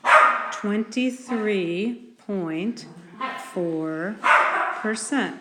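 A dog barks repeatedly in the background of a room, several loud yipping, tonal barks in quick bursts mixed with a person speaking.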